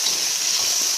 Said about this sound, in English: the sizzling is really loud